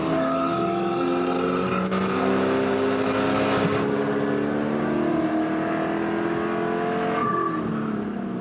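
A Spec Corvette race car at Chuckwalla Valley Raceway roars continuously at high revs, its engine note rising and shifting through gear changes, loud and close with no talk.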